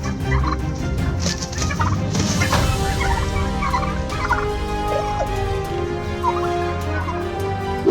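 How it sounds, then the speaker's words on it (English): A turkey gobbling repeatedly during a scuffle with a rooster, loud rattling gobbles coming in bursts over a constant background of fowl noise and rustling, close by, with no voices. "rooster versus turkey"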